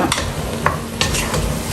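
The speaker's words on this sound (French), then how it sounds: "La viande est vraiment en train de bien cuire." Meat cooking over high heat in a pot gives a loud, dense sizzle with a few quick scrapes and clacks of a stirring utensil, up close.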